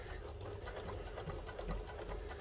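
A sewing machine runs steadily on a construction stitch of about 2.5, sewing a hidden bag strap connector with back stitching; a continuous close mechanical whirr with fast rhythmic needle pulses and no talk.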